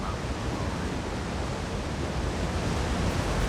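Steady, dense rush of falling water near a cave in the Wrothgar region of Elder Scrolls Online, a continuous broadband roar that holds at an even level from start to finish with no voices.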